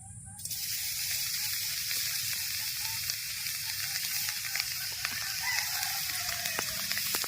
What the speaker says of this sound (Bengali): কড়ার মধ্যে দিয়ে দেব কোড়া নারকেল